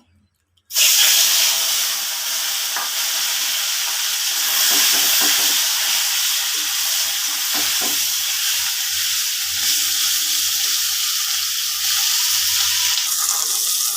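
Fish sizzles loudly as it fries in hot oil, a dense, steady crackling hiss that starts abruptly and carries on close up, with faint clinks of handling underneath.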